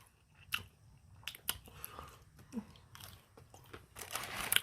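Close, crisp bites and crunchy chewing on a spicy fast food chicken tender, several sharp crunches spread unevenly, the loudest near the end.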